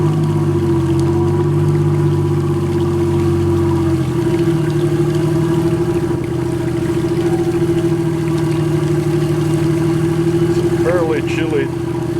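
A 1979 Bertram 38 Convertible Mark III boat engine starts cold on a chilly January morning, settling into a steady, close, continuous low idling drone with a smooth humming tone for the whole stretch.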